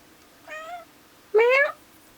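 A pet cat meows twice indoors, a short soft cry followed by a louder, longer rising meow, close by against a quiet room.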